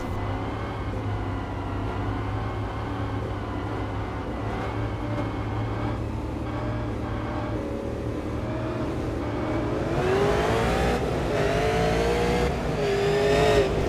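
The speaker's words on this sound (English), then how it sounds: "We are going to take a listen into the engines of these super late models here." Super late model race car engines roar at South Boston, a dense continuous drone of several cars that swells louder toward the end as engines rev and rise in pitch, with no voices.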